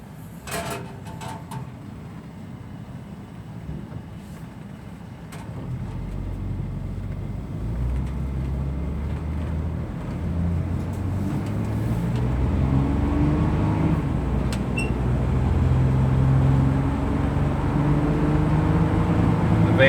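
2004 Chevy Astro cargo van with a 4.3 V6 pulling away and driving, low engine drone rising and falling as it accelerates through smooth gear shifts, heard from inside the cab.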